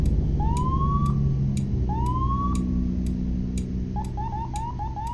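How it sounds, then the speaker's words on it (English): An emergency vehicle siren in the American Truck Simulator video game on Georgia roads. It gives two long rising wails, then a quick repeating yelp, clear and steady over a constant low engine rumble. "Oh, it's got a siren."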